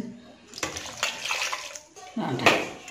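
Water is poured into a cooking pot already holding mango, ginger, green chilli and curry leaves, a close, splashy rush in two pours with a brief pause.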